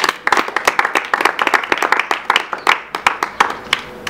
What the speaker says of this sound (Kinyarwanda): amashyi